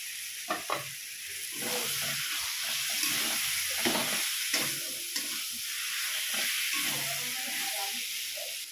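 Fried potato pieces go into a hot pan of sizzling oil with turmeric for a bhetki fish-bone chorchori, giving a steady close frying hiss broken by scraping stir knocks, with no talk.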